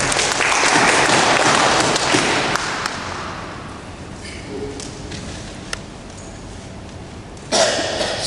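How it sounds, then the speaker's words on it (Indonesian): An audience at a church commission visit breaks into applause that is fairly loud at first, then thins out and fades over several seconds, followed by a brief later burst of sound. "Kami persilahkan dan tepuk tangan dong."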